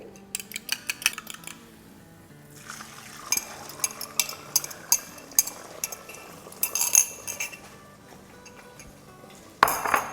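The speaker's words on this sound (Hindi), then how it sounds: "और अब इसमें डालेंगे इस बटर में, गार्लिक वाले बटर में अंडे।" Eggs are scrambled in garlic butter in a pan, with irregular close clinks and taps of a utensil against the pan over a soft background sizzle, ending in a louder clatter.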